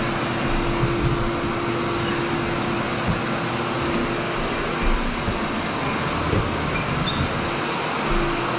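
A homemade dust extractor built from a shop vac, meant for concrete floor grinding, roars loud and steady throughout, a continuous whining motor drone close by with no talking.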